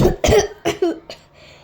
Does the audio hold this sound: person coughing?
yes